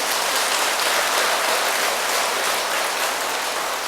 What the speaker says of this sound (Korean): 옳으면 박수 한번 쳐봐요